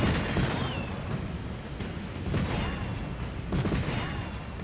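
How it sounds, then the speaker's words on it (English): Cannons firing from the Jack Sparrow glider in the video game Fortnite, a rapid series of booming shots with rumbling tails and a whistling streak, dense and loud over a noisy game background. "Just press the trigger button while you're gliding to shoot cannons."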